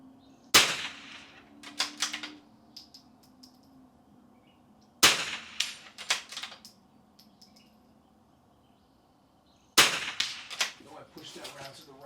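Gunshots at an outdoor shooting range during a stage of an NRL22 rimfire match. Three sharp single shots come several seconds apart, each with a short ringing echo and faint clatter afterward, over a quiet background.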